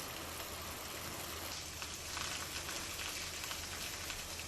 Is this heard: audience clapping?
no